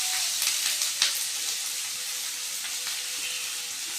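Four onions fry in a pan for coriander chutney, a soft steady sizzle with a few brief crackles and stirring knocks early on, close and quiet, with no speech.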